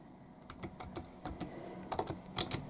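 Typing on a computer keyboard: a quick, irregular run of light key clicks, close and fairly quiet, with no talk.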